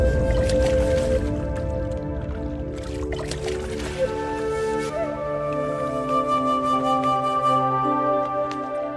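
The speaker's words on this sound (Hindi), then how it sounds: "अब आप इन दोनों घड़ों को पानी में डाल दीजिए" Two clay pots are lowered into water, giving a steady wet swirl with gurgles and sloshing. A low hum and faint tones run underneath throughout.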